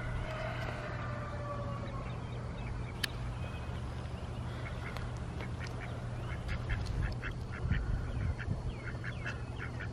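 Ducks on a small farm quack repeatedly in loose, overlapping bursts near a pond, fairly close and clear over a steady low hum, with no voices.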